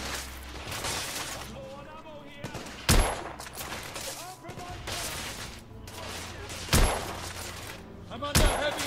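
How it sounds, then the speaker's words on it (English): Heavy gunfire in the game The Order: 1886, with sharp loud shots cracking at intervals over a background of rattling fire and combat noise, while a person talks throughout. "I'm under heavy fire."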